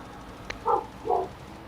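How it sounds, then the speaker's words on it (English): A dog gives two short barks, nearby and moderately loud, about half a second apart, after a brief click, with quiet background and no talk. "Oh, Bella barking at something"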